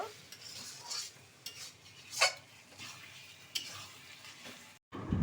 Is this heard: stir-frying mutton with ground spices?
yes